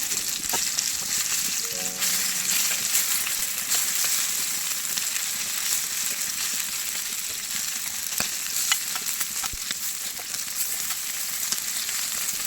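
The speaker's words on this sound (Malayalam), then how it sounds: "ദോശക്കല്ലിൽ ചെറുതായിട്ടൊന്ന് ഫ്രൈ ആക്കി എടുക്കുന്നതേ ഉള്ളൂ" Continuous bright sizzling of mussels shallow frying on a hot dosa griddle, dense and even throughout, with a few faint clicks and no talking.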